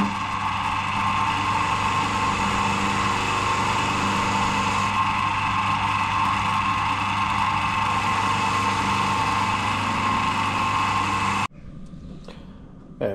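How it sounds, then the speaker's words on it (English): A buffing wheel with a softer mop polishing tank brackets, a steady loud motor whine running continuously for about eleven seconds before cutting off abruptly. "A little buff up with a softer mop"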